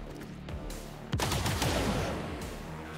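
Video game gunfire from XCOM 2 (Long War of the Chosen mod), a sharp burst of shots with a loud onset followed by rattling, decaying fire and echoes, fairly close and alone.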